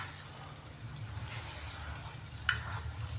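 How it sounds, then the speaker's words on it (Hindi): Boneless chicken frying in oil, a soft, low, steady sizzle with a faint hum beneath it and one quick clink partway through. "हम इसको 5 मिनट फ्राई कर लेंगे चिकन को पहले"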